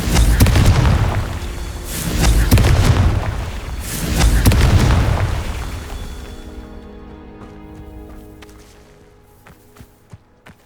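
Booming explosive blasts from the Confringo fire spell in Hogwarts Legacy, played on PS5: three heavy bursts in the first five seconds, each rolling out, then trailing into quieter crackles and small pops.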